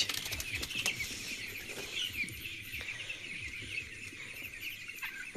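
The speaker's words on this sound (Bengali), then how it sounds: "এসে দেখি সবগুলো মুরগি এখানে খাবার খাচ্ছে" Chickens feeding inside a farm coop give soft, scattered clucks and short bursts of wing flapping, close by and fairly quiet, with no talking.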